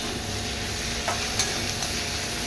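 Capsicum fries in hot oil with a dense, continuous sizzle and crackle. A couple of faint stirring scrapes rise briefly above the steady hiss, and no one speaks.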